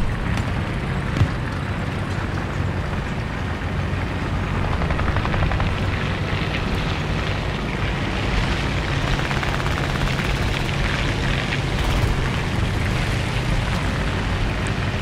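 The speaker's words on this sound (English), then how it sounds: "Plane coming in." A propeller aircraft flies overhead during a War Thunder ground battle, a steady, loud engine roar and rumble running unbroken for the whole stretch with no talking.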